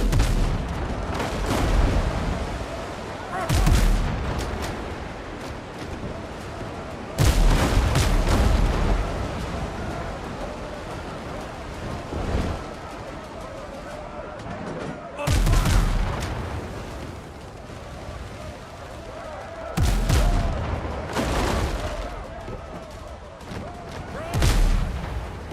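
Repeated heavy ship cannon blasts and impact booms in the naval video game Windrose, arriving in loud bursts every few seconds over a constant rumbling background.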